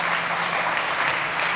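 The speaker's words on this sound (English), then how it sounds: "Big applause for Monica." Steady, dense audience applause at a startup competition event, loud and continuous throughout with no pauses.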